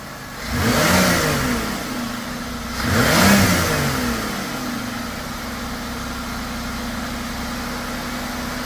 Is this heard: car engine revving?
yes